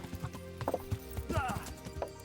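A horse being ridden in the video game Kingdom Come: Deliverance gives a soft, irregular clip-clop of hooves with a brief whinny, quiet and close, with a voice heard faintly.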